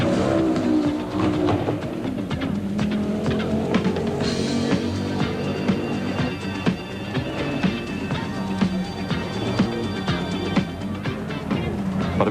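A Volkswagen Passat Synchro rally car runs a dirt track stage at the Goodwood Showgrounds in the 1987 Nissan International Rally, its engine droning and revving steadily and loud throughout, with gear changes and shifting pitch.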